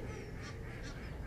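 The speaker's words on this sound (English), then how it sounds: "And the ducks and the geese." Ducks and geese calling over a lake on an old English country estate at dawn, faint and distant against steady broad outdoor background noise, a couple of soft honks rising briefly.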